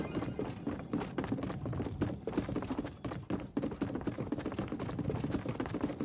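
Footsteps in the video game Fortnite make a rapid, continuous patter of quick taps, fairly close and steady, with no talking.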